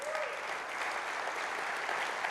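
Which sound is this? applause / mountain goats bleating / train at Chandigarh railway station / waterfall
applause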